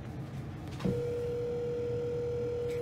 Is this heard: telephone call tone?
yes